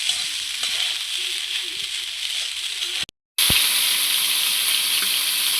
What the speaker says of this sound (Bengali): এই যে আমার ভাতটা ভাজা হয়ে গেছে